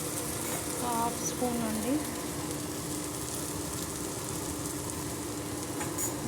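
Okra frying in a pan with chili powder being stirred in, a steady dense sizzle running throughout while someone speaks briefly over it.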